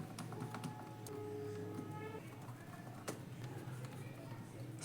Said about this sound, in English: Now let's put back the keyboard screws.